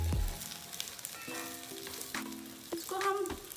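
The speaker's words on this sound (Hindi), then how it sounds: "इसको हम 2 मिनट फ्राई करेंगे" Capsicum fries in a hot pan with a constant sizzle, joined by occasional stirring clinks and scrapes, and no voices are heard.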